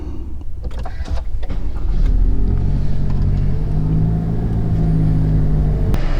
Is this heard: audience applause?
no